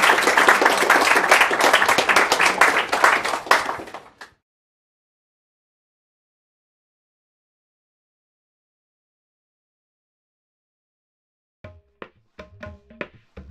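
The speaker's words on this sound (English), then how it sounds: "why don't we give a round of applause to thank you." Audience applause at the close of a University of Chicago international studies lecture, loud and steady clapping from a crowd for about four seconds before cutting to silence, then faint scattered sounds near the end.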